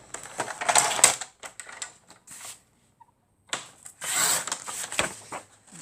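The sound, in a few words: cutting paper with a guillotine paper cutter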